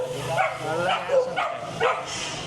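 Dogs at a coffee shop in Ho Chi Minh City let out several close, rhythmic barks and yips over café background noise, with voices in between.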